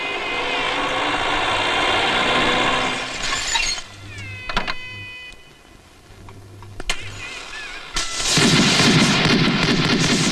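Celebratory gunfire greets an arriving boss: sharp, loud bangs ring out one after another, followed by a burst of harsh, sustained noise.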